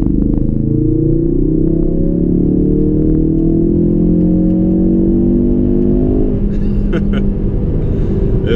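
A Ford Focus RS on its stock tune accelerates hard, the engine note climbing loudly and steadily from close inside the car before a gear change near the end.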